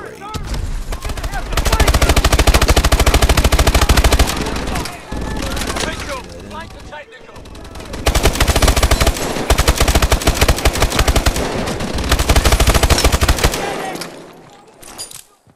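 Sustained rapid turret gunfire in Call of Duty: Advanced Warfare, loud and dense, running in long bursts with a short gap midway and tapering off at the end.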